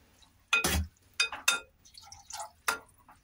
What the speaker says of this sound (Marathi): इथं आता मी अर्धा ग्लास पाणी टाकले